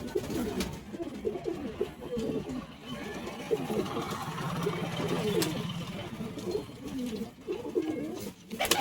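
Pigeons kept for sale coo in a dense, continuous chorus of soft rolling calls, close and fairly loud, with occasional voices and a faint engine hum behind.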